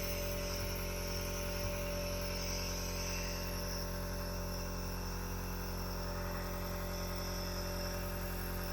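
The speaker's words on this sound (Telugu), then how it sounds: "తర్వాత నెబులైజేషన్‌కి ఇచ్చిన ప్లగ్‌ని కనెక్ట్ చేసి సో, ఇక్కడ ఆన్, ఆఫ్ బటన్ ఉంటుంది. సో, ఆన్ చేసుకున్నాము" A nebulizer machine runs at home, giving a steady, even electric hum with a faint buzz that continues unchanged throughout, with no talking.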